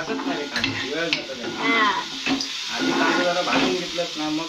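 Onion sizzles as it fries in hot oil in a home kitchen pan, a close, continuous crackle running under people talking.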